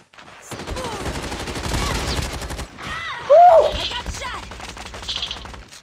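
Gunfire in the battle royale video game Call of Duty Mobile pops in quick, closely spaced bursts of shots, moderately loud, with a person's voice cutting through midway.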